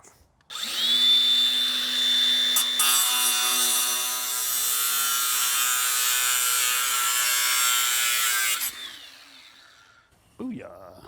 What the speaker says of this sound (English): I got to grind the metal down.